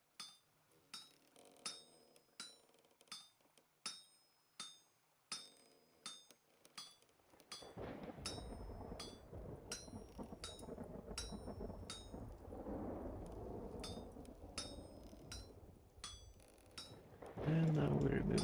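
Metal pieces clinking into place during smithing in the video game Vintage Story: a regular series of sharp, bright metallic clinks, first alone and then continuing over a steady broadband wash.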